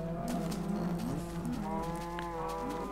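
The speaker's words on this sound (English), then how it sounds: "let's have a look at our cows" Minecraft cows moo in low, drawn-out calls, several overlapping one after another, loud and close with no talking.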